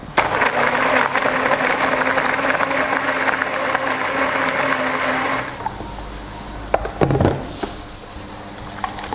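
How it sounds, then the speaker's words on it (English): A blender whirs loudly and steadily for about five seconds, crushing ice for a frappuccino, then cuts off, followed by a few clunks and knocks. "Pop it in the blender and blend."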